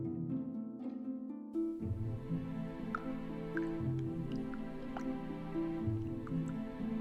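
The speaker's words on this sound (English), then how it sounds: "What's that dripping noise?" Dripping in the game Detective Di: The Silk Rose Murders, with drops falling at irregular intervals over a sustained ambient musical drone, faint and close, with no talking.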